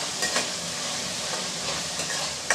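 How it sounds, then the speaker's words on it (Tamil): Brinjal pieces sautéing in hot oil in a pan, a steady close sizzle and hiss with a few faint stirring scrapes, no voices over it. "எண்ணெயில் நல்லா நம்ம கத்திரிக்காய் வதக்கி விட்டால் தான் நமக்கு வந்து கத்திரிக்காய் கரையாமல் இருக்கும் அதனால் நல்லா வதக்கி விட்டுடலாம்"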